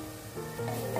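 Spoon stirring masala in a pan on low heat, a soft steady scraping and faint sizzle lasting about a second, close and quiet with no voices.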